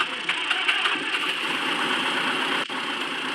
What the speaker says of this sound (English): let's start the engine and go flying.